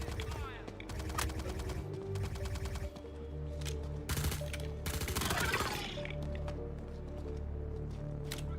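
Rapid suppressing gunfire in the space game Star Citizen, with fast rattling bursts, a couple of sharp heavy impacts and a steady background hum throughout.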